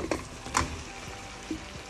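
Fish and spices fry in a pan with taro stolons and whole garlic cloves, a steady close sizzle broken by a few sharp stirring scrapes.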